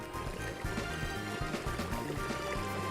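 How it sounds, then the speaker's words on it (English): Water draining away after a lever is pulled in Trails in the Sky SC, a continuous gurgling, sloshing flow with bubbly low churning, steady and moderately loud, over faint background music. "The water is draining somewhere."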